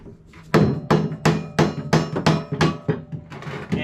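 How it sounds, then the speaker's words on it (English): A hammer strikes metal parts into a twin cam chopper motorcycle frame, about nine sharp ringing blows in a steady rhythm, loud and close. "if you have to use a hammer to get it in and it doesn't bind at all"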